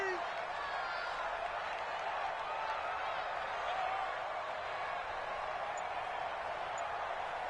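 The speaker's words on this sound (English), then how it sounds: "the crowd getting into it as we come up on a big 3rd down" Stadium crowd in the Madden NFL 20 football video game, a steady, dense roar of cheering building ahead of a big third down, sustained and evenly loud throughout.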